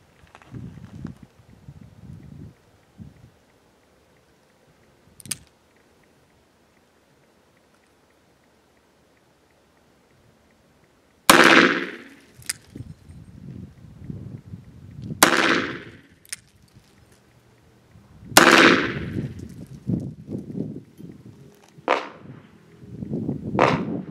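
Gunshots from 200 grain .44 Special rounds: about half a dozen sharp reports, one isolated early shot, then several louder spaced shots with echoing tails and quiet gaps between.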